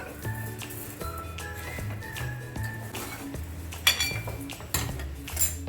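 Spoon stirring sugar into apricot semolina sheera in a metal pan, with close clinks and scrapes of utensil against pan repeating in an uneven rhythm.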